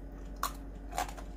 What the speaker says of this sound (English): I keep nibbling on the little pieces.